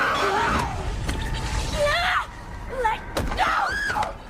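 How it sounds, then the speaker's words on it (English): A woman's shrill, wavering scream as she is burnt by light in Resident Evil Requiem, rising in pitched wails between heavy thuds and game noise, loud and close with no talk. "if you listen to the scream right here when she starts getting burnt by"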